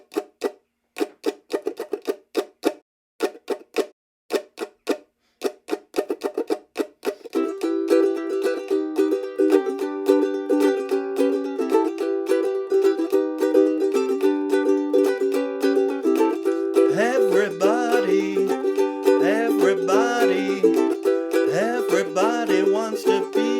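A ukulele plays the outro of a song, opening with sharp, choppy muted-string strums before breaking into fuller ringing chords, close and alone.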